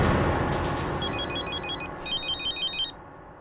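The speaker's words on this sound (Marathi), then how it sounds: "कोणाचा फोन आहे?" A phone ringtone rings out in a domestic scene. Two electronic bursts of bright repeating tones sound clearly over a dull background hum, then cut off abruptly.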